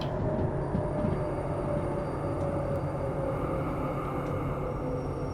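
Long freight train slowing to a complete stop under braking, heard as a steady low rumble of wheels and cars with faint high squeals, continuous and even from inside the locomotive cab.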